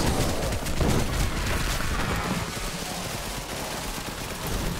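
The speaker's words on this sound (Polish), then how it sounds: "I jeszcze raz strzał z biodra, ale tutaj słabo wyszło." Hip-fire gunshots in the game Pagan: Absent Gods, a dense, continuous burst of loud blasts and rumbling impacts with no clear gaps, filling the whole stretch.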